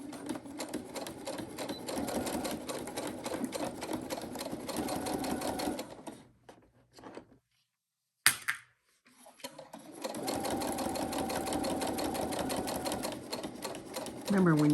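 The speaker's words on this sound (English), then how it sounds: "we're gonna stitch down this long side, both sides of our key fob" Sewing machine running steadily while stitching along the long side of a key fob about a quarter inch from the edge, loud and continuous, pausing briefly in the middle before resuming, with a voice talking over it at times.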